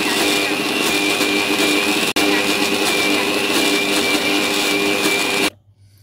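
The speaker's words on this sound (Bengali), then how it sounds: "এটাকে আমি মিক্সি করে নেব।" A mixer grinder whirs loudly and steadily as it grinds soaked masoor dal with green chillies, ginger and garlic, running close with one brief dip in the middle before cutting off abruptly near the end.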